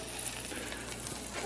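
Chunks of butter sizzle in avocado oil inside a cast iron Dutch oven, a soft steady crackling hiss heard alone for a brief moment.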